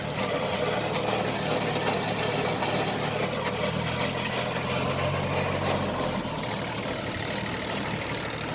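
A used Yanmar F-7 mini tractor, a 17-horsepower machine fitted with a rotary tiller, idles steadily up close with a continuous low rumble and no talking.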